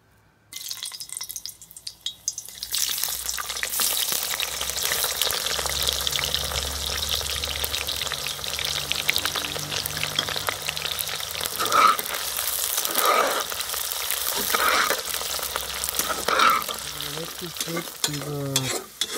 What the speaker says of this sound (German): Und jetzt kommen die Zwiebeln da rein.